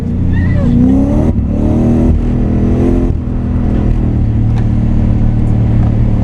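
A Nissan S14a 200SX running a naturally aspirated 1UZ V8 drifts on a partly wet, partly dry track, its engine revving hard in repeated rising surges near and loud, with a voice speaking over part of it.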